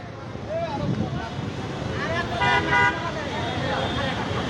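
Vehicle horns honk repeatedly in stalled traffic near an accident in Dhaka between Khilkhet and Kurmitola Hospital, overlapping toots rising above a road hum and wind noise, with people talking throughout.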